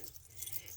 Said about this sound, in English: here are a couple of bundles of keys that I got to use for charms